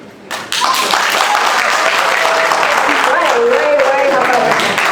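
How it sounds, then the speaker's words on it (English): Applause erupts from a crowd at a university freshers' debate, continuous clapping starting with a sharp rise and staying loud throughout, with voices and cheers mixed into it. "Why the people clapping?"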